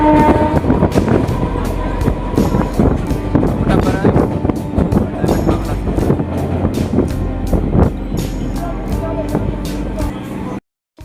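A train runs along the railway line toward Canning near Champahati station, with a steady rumble and rhythmic clatter of wheels over rail joints, loud and close throughout before cutting off abruptly near the end.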